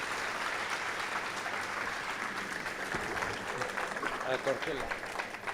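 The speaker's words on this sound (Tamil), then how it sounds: "ஒரு பலத்த கைத்தட்டலோடு வரு." An audience claps steadily and fairly loudly at a Tamil lecture event to welcome the speaker to the stage, with the sustained applause continuing throughout.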